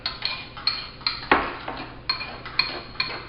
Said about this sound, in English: I'm going to kind of mix it up a little bit here.